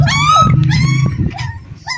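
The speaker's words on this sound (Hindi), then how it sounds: "कुत्ते का बच्चा ये" A puppy whimpers and yips in high, wavering cries, several drawn-out whines in close succession, loud and near, with no talking during the clip.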